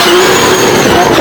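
Green Subaru Impreza with a big 3.2-litre engine powering up the narrow Shelsley Walsh hill climb, a loud, steady, sustained engine roar close by for just over a second with no pause.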